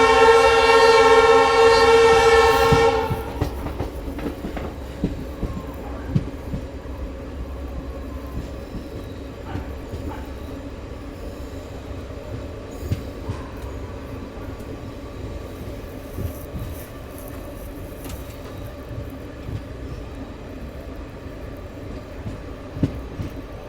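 A Bandra-Jodhpur Suryanagri Express passenger train rolls along with a steady low rumble and scattered clanks, opening with a loud sustained horn blast for about three seconds before settling into continuous running noise.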